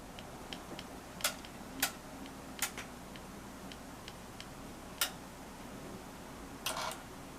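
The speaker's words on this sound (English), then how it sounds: "those clicking is basically you're clicking the relays in the auto tuner" Relays in the automatic antenna tuner of a Kenwood 850 radio snap in a handful of sharp, irregular clicks over a quiet background hum, faint but distinct and close.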